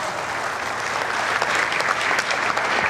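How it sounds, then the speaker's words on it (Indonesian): Thick, continuous crowd applause at a live motivational talk builds slightly in intensity, loud and sustained with no speech over it. "tepuk tangan yang ikhlas semuanya"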